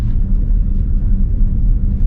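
A 2021 Ford F-150 PowerBoost hybrid pickup rolls along while towing a boat, heard from inside the cab as a loud, steady low rumble of road and drivetrain noise with no voices.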